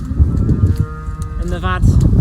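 Milk cows kept inside a shed on wet ground moo and low loudly close by, with a drawn-out bellow near the end over a busy barn background.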